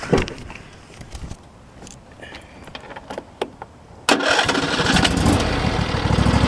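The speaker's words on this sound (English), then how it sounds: "Let's turn the tractor on." A tractor engine cranks over with a few uneven, sputtering catches, then fires and settles into a loud, steady running rumble, heard up close in a quiet setting.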